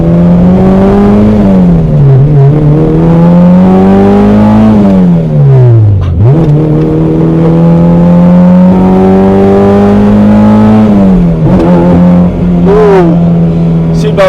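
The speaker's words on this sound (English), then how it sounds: "It's loud, man, but it's a VTEC lah, guys. We need the noise." A loud K24-swapped Honda Civic EK sedan engine revs hard through several gears from inside the car, VTEC pitch climbing steeply then dropping at each shift, with a sharp high-rpm howl throughout.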